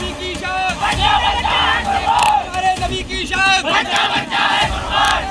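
A large crowd surging onto a street after Friday prayers in Bareilly, loud and continuous, with many overlapping raised voices and shouts forming a dense, rising roar throughout.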